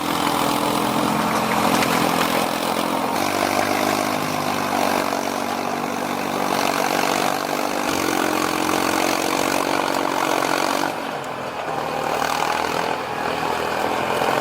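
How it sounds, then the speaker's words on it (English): A forestry forwarder's engine roars steadily under strain, loud and close, droning continuously with slight shifts in pitch and no voices. "The engine roars under the strain, but the forwarder persists"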